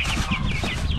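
Rhode Island Red and silkie cross chicken clucking close up, a continuous run of soft, rapid clucks and throaty murmurs over steady farmyard background noise.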